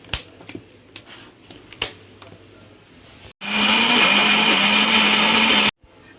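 A mixer grinder grinds tomato mint chutney in a loud, steady whir lasting about two seconds, after a few quiet clicks and knocks as the jar is set up.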